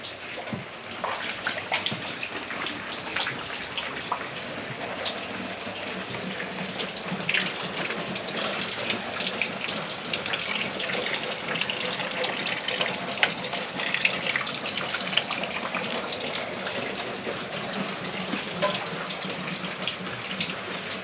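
After days of nonstop rain, dirty drain water gushes and flows through a flooded house, making a continuous rushing, splashing wash that carries on for the whole stretch without speech.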